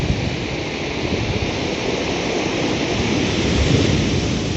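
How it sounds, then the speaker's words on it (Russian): Black Sea waves roll in and crash, making a loud, continuous roaring wash of surf close by that does not let up, with no voices. "Вон какие волны идут."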